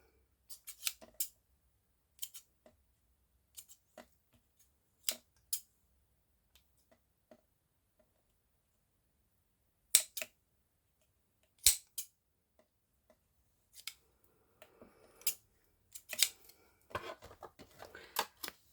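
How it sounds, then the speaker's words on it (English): Scissors snip through craft strings on a handmade tag, giving sharp, close metallic clicks and cuts scattered across a quiet background, growing busier toward the end. "And just cut off the strings."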